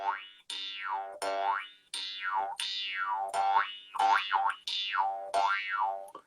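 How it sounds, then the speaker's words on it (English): A jaw harp twangs in a repeating series of about eight plucked notes, each with a sweeping wah-like vowel glide as the player reshapes the mouth, close and fairly loud with no talking. "But if you move the shape of your mouth, then you can get sounds like this."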